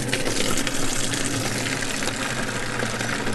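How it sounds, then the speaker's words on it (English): Water gushing hard from a high-powered water butt in a garden, a loud, steady rushing hiss that continues without a break. "You can hear me over the high-powered water butt coming out."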